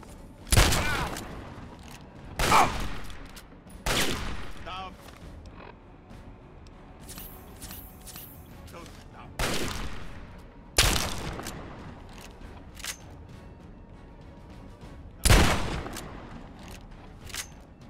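Weapon fire in Fallout 3: about six loud, sharp shots spaced irregularly several seconds apart, with fainter creaks and clicks between them.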